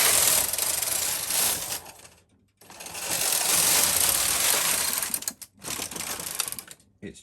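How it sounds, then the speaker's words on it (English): Brother KH-260 knitting machine carriage running through the colour changer for ladderback jacquard, a loud mechanical clattering rattle in long bursts with brief gaps and a click as it engages. "go into the colour changer till we get the click"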